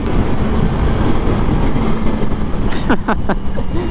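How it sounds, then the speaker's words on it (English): Supercharged engine of a 2020 Kawasaki Z H2 motorcycle roaring loud and close in a steady, dense drone, with a brief rising whine near the end. "Oh my god, that supercharger, it sounds so good"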